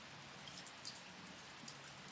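Rain on a spring afternoon near a horse stable, a soft steady patter with scattered individual drips tapping close by, quiet and without voices.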